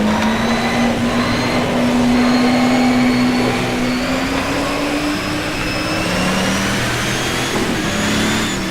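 A NASCAR stock car engine in rFactor 2 drones steadily while leaving the pits at limited speed, a constant, fairly loud hum with slowly shifting pitch and no talk.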